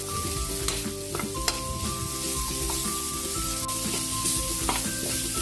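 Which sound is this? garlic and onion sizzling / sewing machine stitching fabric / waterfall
garlic and onion sizzling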